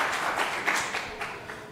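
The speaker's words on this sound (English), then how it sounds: "Let's give them a round of applause" Applause fills a room at the opening ceremony of the 2025 Unisa Innovation Festival: a steady, moderately loud wash of clapping with a few sharper swells, continuing throughout and heard without talk.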